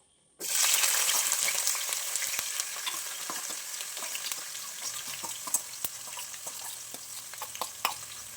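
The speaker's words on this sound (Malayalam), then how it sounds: "ഇനി അതിലേക്ക് കുറച്ച് വെളുത്തുള്ളി ഇഞ്ചി മിക്സ് ആഡ് ചെയ്ത് കൊടുക്കാവേ" Loud, steady sizzling of a garlic and ginger mix frying in hot sesame oil starts abruptly and continues, with occasional pops and crackles throughout.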